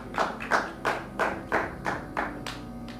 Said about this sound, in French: tu as très bien fait d'acclamer, acclame encore.